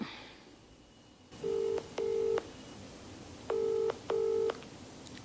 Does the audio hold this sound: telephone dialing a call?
yes